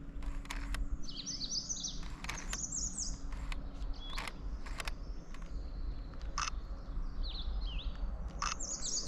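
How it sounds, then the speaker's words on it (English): A blue-headed vireo sings outdoors in Nova Scotia, short sweet phrases repeated at intervals, moderately distant, over a steady background rumble and sharp bursts of camera shutter clicks. "I hear a blue-headed vireo."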